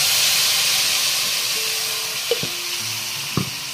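Green chili and garlic paste sizzles and fries in a hot pan, a steady loud hiss that eases a little over time, broken by a few clanks of a spoon stirring against the pan.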